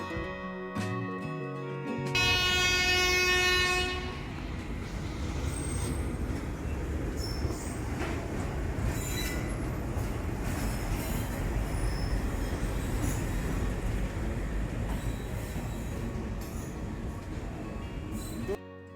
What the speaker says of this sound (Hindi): और अब आ गई है हमारी ट्रेन,